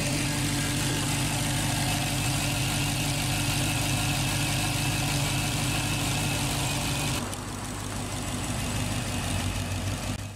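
A 2015 Dodge Challenger SRT Hellcat with a supercharged 6.2-liter Hemi V8 idles close by, a steady loud rumble that drops to a quieter, lower idle near the end.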